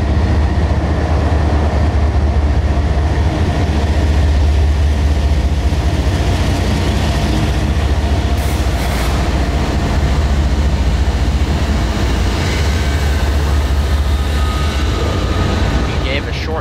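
A CSX freight train with locomotives, including an ST-70AH, rumbles past near Plant City, a loud, continuous low roar of engines and rolling wagons that holds steady throughout.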